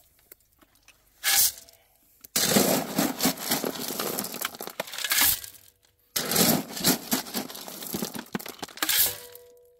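Washed stone being placed by hand behind a small spring water dam on an Alaskan hillside makes loud, close bursts of rattling, grinding gravel. They come in two long stretches separated by short pauses, with a quieter scrape near the start.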